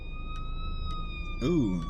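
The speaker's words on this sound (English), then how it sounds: "They got the ambulance coming" An ambulance siren wails steadily in the background after a road accident, its tone sliding slowly, while a voice speaks briefly near the end.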